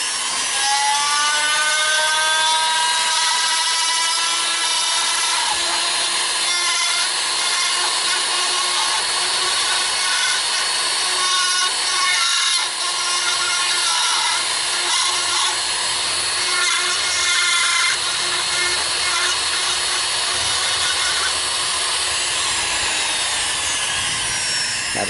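A power carving tool grinds steadily into a wooden walking stick, producing a loud, continuous high whine with rasping texture that holds without a break and with no talking.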